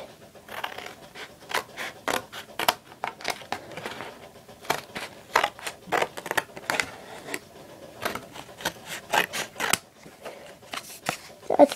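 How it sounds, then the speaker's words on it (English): Someone cuts cardboard to size for a wrist cuff, making a steady run of crisp snips and crunchy cuts close up, with little else audible. "take your cardboard and cut it to fit around your wrist."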